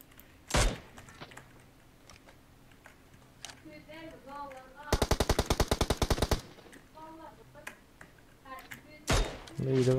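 Gunfire in PUBG Mobile: a few sharp single shots, then a long rapid automatic burst of evenly spaced bangs, with faint game sounds and brief voices in between.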